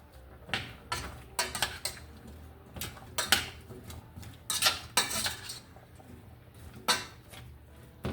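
A margarine mixture is stirred in a pot, producing irregular metallic scrapes and clinks of a utensil against the pan, close and sharp, with quiet gaps between strokes.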